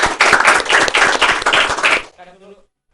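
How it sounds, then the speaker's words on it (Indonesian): Applause from a small podcast audience honouring a teacher, a brief burst of dense clapping lasting about two seconds that stops abruptly, followed by a short moment of speech. "Tepuk tangan dong untuk Pak Juan Azri."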